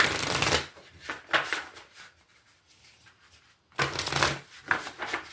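Oracle cards from an Urban Crow Oracle deck shuffled in two quick bursts of riffling and flicking, near and fairly loud, with a quiet pause between them and no talking.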